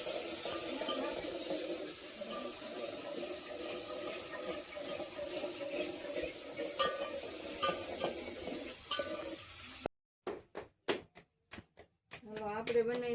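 Spiny gourd curry with tomato frying in a pan, with a steady sizzle and occasional stirring scrapes, followed near the end by a few sharp, separate clatters.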